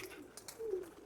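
Pigeons in a training loft give a soft, low coo up close, with a couple of faint clicks or wing taps just before it.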